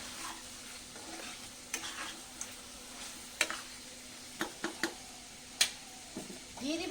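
Desi chicken meat frying in a pan, a soft continuous sizzle punctuated by scattered sharp clinks and scrapes of a spoon stirring against the metal, heard close with faint voice nearby.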